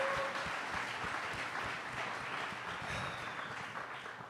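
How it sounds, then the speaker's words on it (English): An audience claps together at a book launch event, a dense steady round of applause that holds for several seconds before tapering slightly, with faint talk underneath. "Round of applause."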